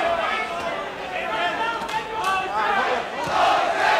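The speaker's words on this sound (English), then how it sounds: "Crowd taking up a chant of Jose." Boxing arena crowd at a Mike Tyson versus Jose Ribalta bout, a dense roar of many voices rising into a rhythmic chant of a name, loud and continuous throughout.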